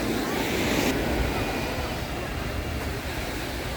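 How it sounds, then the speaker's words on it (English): Ocean waves wash onto a beach in Cabo in a continuous, fairly loud roar of surf, with some wind buffeting the microphone. "These are waves."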